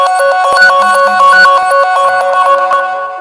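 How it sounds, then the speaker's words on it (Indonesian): Loud electronic ringtone melody from a Xiaomi Mi A2 mobile phone, set off remotely through Find My Phone, with bright repeating tones that play steadily and close for the whole stretch. "Ini bisa kalian ring. Ini bunyi handphone gue nih."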